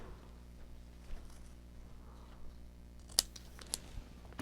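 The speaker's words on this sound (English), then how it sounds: "Trim that off. Then this one again, I'm just going to cut a short-ish length." A few quiet, crisp snips of scissors cutting a short length of craft material at a tabletop, set against a steady low room hum.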